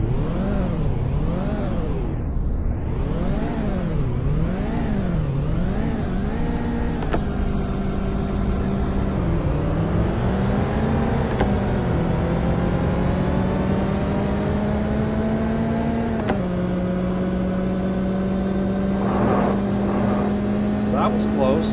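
Acura NSX sports car engine in the 3DO racing game The Need for Speed, a steady loud drone whose pitch swings up and down through repeated revs and gear shifts, then settles into a high sustained whine.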